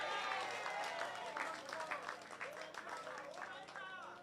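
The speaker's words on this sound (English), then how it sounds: "Let's give her a round of applause." Crowd applause and cheering at a community event honoring a woman, fairly faint, mixed with raised voices and shouts from the audience.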